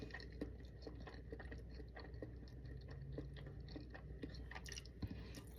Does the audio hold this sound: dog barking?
no